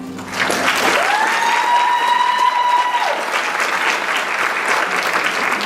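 An audience at a Miss Cinderella pageant final applauds contestants with sustained, fairly loud clapping, and a brief high whistle or cheer rises near the start.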